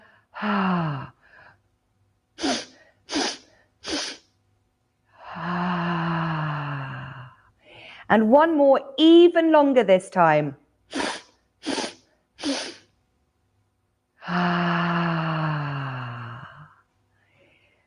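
A speaking voice alternates with series of short, sharp sniffs taken in quick succession by children during a yoga breathing exercise, followed by long breaths in and out.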